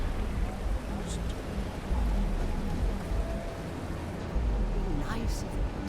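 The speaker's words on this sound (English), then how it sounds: "Nice if it would stop raining." Steady rain falling in the Starfield video game, a continuous wash of noise with low rumbling underneath, with no clear pauses.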